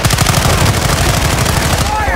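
Rapid automatic gunfire in the video game Call of Duty DMZ, a loud sustained burst of close shots that stops abruptly near the end, with voices mixed in.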